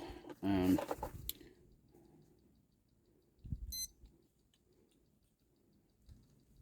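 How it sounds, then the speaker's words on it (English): A short, high electronic beep from a lightning detector sounds once in a quiet mountain setting, after a voice speaks briefly at the start. "lightning detector. Hear this beep."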